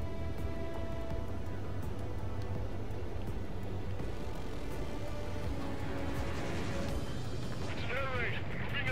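Anti-aircraft guns firing in the Ace Combat 7 jet combat game, a steady rumbling barrage of distant bursts running throughout, with voices over the radio.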